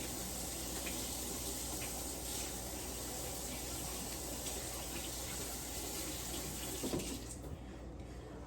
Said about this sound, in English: All right, wash my hands.